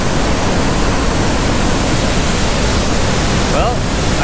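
A loud Pacific Northwest waterfall roars as a dense, steady rush of white noise that fills the whole clip.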